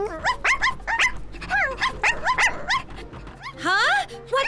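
A small dog yips and whimpers in quick, high bursts, with a few longer whining cries near the end, close and fairly loud.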